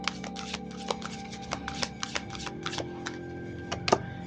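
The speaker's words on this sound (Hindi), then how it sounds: "Okay so let me shuffle more." Tarot cards shuffled by hand at close range, producing a string of light, irregular taps and flicks over a faint steady background hum.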